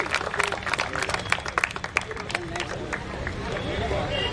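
A crowd at a friends' sports league turf awards event breaks into sharp, scattered clapping that thickens into continuous applause, with chatter and background babble mixed in.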